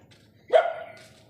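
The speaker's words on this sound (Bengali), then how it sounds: "আমাদের পাড়ায় কুকুরগুলো এবার চিল্লাতে শুরু করে দিয়েছে।" A single dog bark rings out once in a residential neighbourhood at dawn, fairly close and sharp, over an otherwise quiet background with no talking.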